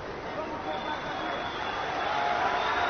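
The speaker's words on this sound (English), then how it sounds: "Appreciative crowd for these two warriors" A crowd cheers at a fight, a steady roar of cheering and babble that swells gradually, heard from a distance in a large arena.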